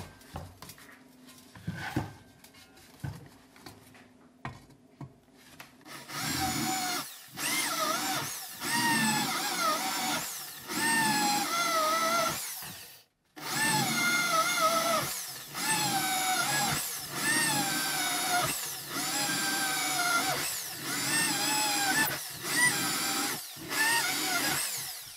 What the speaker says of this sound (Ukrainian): Накернили, тепер можна свердлити.